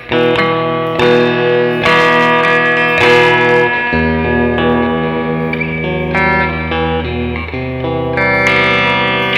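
Electric guitar run through the delay effect of a NUX MG300 multi-effects unit, loud distorted chords and single notes ringing on with repeating echoes and long trails that overlap as each new note comes in.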